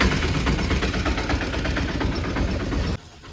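A vehicle engine idles steadily on a roadside, a continuous low rumble with mild vibration that holds at a constant loudness, then cuts off abruptly near the end, leaving quiet background.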